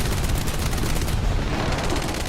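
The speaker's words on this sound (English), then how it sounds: "4 23mm cannons simply delete helicopters from existence" Four 23mm cannons on a Soviet self-propelled anti-aircraft gun in War Thunder fire in a dense, continuous roar of rapid gunfire, loud and close, with no pauses and no talking.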